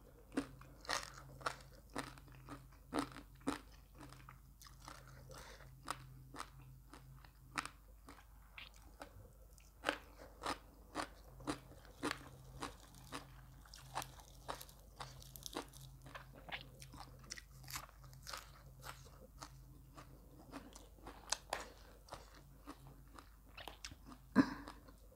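Crispy deep-fried pork being eaten alongside spicy papaya salad: close, sharp crunches repeat at a steady chewing rhythm throughout, each bite crisp and bright against a quiet background, with no talking.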